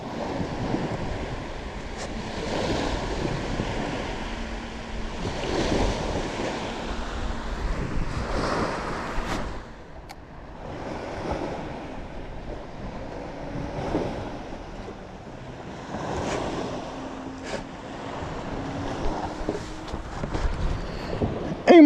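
Waves from a boat's wake wash against the water in a steady surf-like roar. The sound rises and falls for over twenty seconds, mixed with heavy wind buffeting the microphone, and no one talks.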